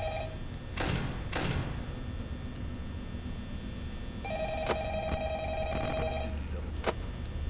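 An old-style phone rings twice in the Five Nights at Freddy's game, short ringing bursts early on, then a steady electronic tone with beeps over a low hum.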